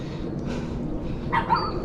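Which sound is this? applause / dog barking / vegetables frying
dog barking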